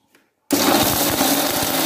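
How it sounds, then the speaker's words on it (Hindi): After a brief quiet click, a mixer grinder grinding herbs abruptly starts and runs loudly with a harsh, rattling grind that continues to the end. "अब इसको ग्राइंड कर लेते हैं।"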